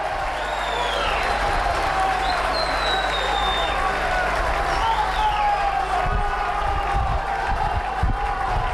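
Rugby league crowd at a Barrow Raiders versus Celtic Crusaders match cheering and applauding after a conversion kick, a steady broad roar of clapping and voices at a distance, sustained throughout with some low thumps.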